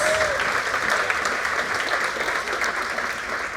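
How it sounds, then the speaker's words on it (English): Steady audience applause at a talk on employee well-being and technology, a dense, even wash of many hands clapping that holds at moderate level, then eases slightly toward the end. "thank you for the second applause, which was even better"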